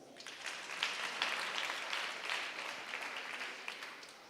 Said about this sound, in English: there is no punishment in clapping for us.